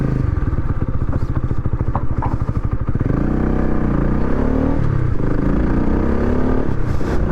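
A RUSI Flash 150X V3 motorcycle engine revs hard, then drops as a gear shift lands near the three-second mark, picking up again in a steady loud drone as the bike accelerates, close to the rider.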